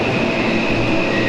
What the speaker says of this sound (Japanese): 5番線の方に各駅停車、飯能行きの電車が入線してきました